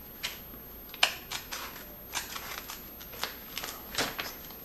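Scissors cut down an envelope in a series of crisp, close snips and paper crackles. The short bursts come at an irregular pace with quiet pauses between them.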